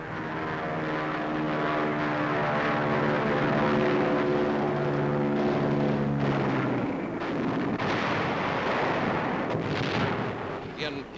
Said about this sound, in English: Anti-aircraft brings down one of our planes, but the crew bails out in safety.